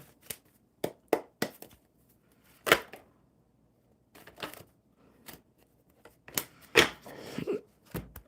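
Tarot cards being shuffled by hand in a quiet indoor room, a series of short papery riffles and taps in irregular bursts with pauses between them, close and fairly soft.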